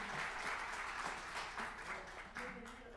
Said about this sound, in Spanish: Recibamos con un gran aplauso a Marco Nicolini.